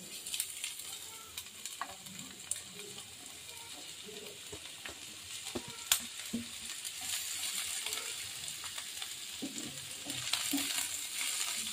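Chopped onion and capsicum frying in a pan for chicken spring roll filling, a soft steady sizzle with occasional stirring clinks and scrapes, fairly quiet throughout.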